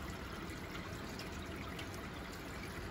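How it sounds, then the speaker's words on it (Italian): Distilled water pours into the water tank of an IKOHS S18 floor cleaner, a steady, soft trickling splash that runs unbroken, faint and close, with no talking. "Io sto mettendo l'acqua denaturata per vedere se almeno gli aloni"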